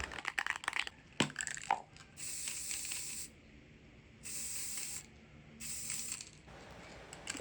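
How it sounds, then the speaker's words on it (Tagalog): Yamaha Blue paint hisses from a Nico spray can in three separate bursts of about a second each, coming after some faint handling clicks and rattles. "we're going to use this Nico spray na Yamaha Blue."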